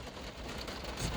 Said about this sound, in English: Sorry for the rain, it's pouring down out here.